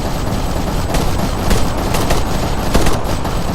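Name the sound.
gunfire in video game ArmA 3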